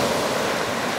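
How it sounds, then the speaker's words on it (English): Ocean surf at Middle Cove Beach, a steady broad wash of breaking waves and rushing water with some wind, continuous and fairly loud throughout the brief moment. "We see the waves."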